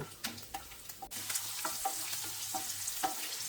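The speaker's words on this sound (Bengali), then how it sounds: "আর একটা গোটা রসুন দেখুন দিয়ে দিলাম, লালচে করে ভেজে নেব।" Dried red chilies and a whole garlic bulb frying in hot oil, with a steady crackling sizzle and several sharp stirring clinks and scrapes, close by, no voices.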